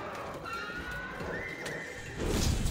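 Kirin, the lightning-horned elder dragon of Monster Hunter World, lets out a horse-like neigh and whinny in the game, a drawn-out tonal cry followed by a louder burst of hoof-like clatter and action.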